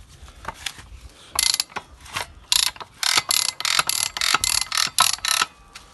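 A hay baler's knotter mechanism is worked by hand to test it, giving a run of sharp, close ratcheting clicks and metallic clatters in short repeated bursts, with no talking.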